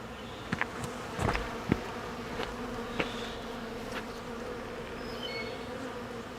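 Honey bees from a weak hive buzz close and continuous during an inspection, with a few sharper passes and taps as individual bees fly near.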